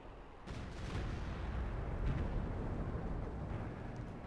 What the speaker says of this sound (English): Fire support coming in, I'm assuming killing that Pack 43